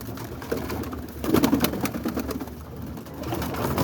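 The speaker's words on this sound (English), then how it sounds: "Some of these birds are still squeaking." Young Boston ripping roller pigeons squeak and coo in their loft on a rainy morning, with repeated chirpy calls over a steady background rush, near and unaccompanied by speech.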